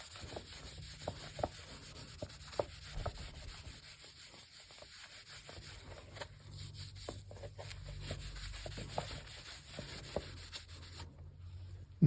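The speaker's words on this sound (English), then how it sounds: "I just see if I can clean off a little bit of residue that's on here." A book's surface is rubbed to clear off residue, soft close scratchy strokes with scattered light taps and bumps, quiet and intimate, stopping abruptly at the end.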